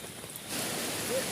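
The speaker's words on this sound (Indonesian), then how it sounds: "Memang benar-benar lebat hujannya teman-teman" Heavy rain beats down on a riverside camping tent, a soft patter that swells midway into a steady, dense close hiss of drops on the surface.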